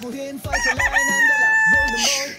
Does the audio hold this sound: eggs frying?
no